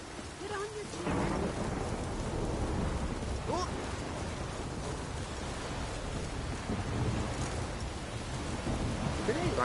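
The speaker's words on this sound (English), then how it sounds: "It's raining." Rain pours steadily in The Witcher 3 while thunder rolls and cracks through the downpour, a dense, continuous storm with a few distant rumbles and brief faint voices.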